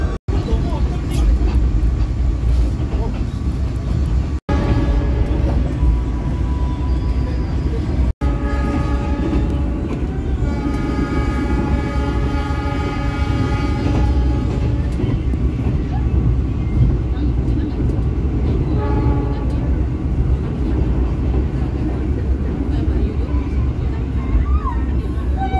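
KA Jayabaya economy passenger train pulls out of Bangil station, a loud continuous rumble of wheels and railcars with horn blasts over the top, close and sustained, with voices in the background.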